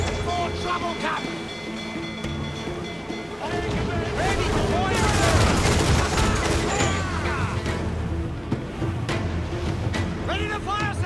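Cannon and gunfire in a naval battle in the video game Assassin's Creed IV Black Flag, with booming shots and crackling volleys over waves, wind and creaking ship sounds, and shouting voices throughout.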